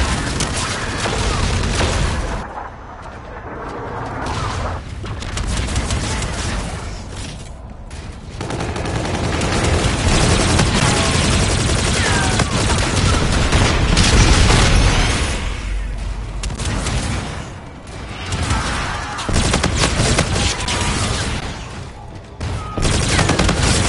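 Trinity rocket strikes explode in a video game, loud continuous blasts and rapid gunfire bursts rolling on for over twenty seconds, dense and close with brief lulls.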